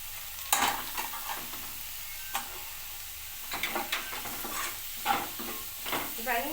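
Grated carrots and onions being stirred and fried for jowar roti upma: a low continuous sizzle broken by several sharp scraping and clanking stirring strokes.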